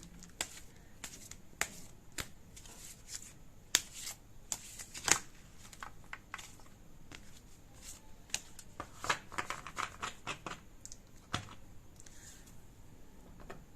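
A deck of cards being shuffled: quiet, sharp riffling clicks and snaps in irregular bursts, close and faint, with no talk.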